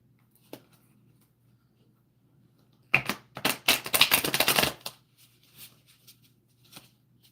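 Tarot cards riffled and shuffled by hand, a quick burst of crisp flapping card clicks lasting about two seconds, close and fairly loud, then a few soft taps in a quiet room.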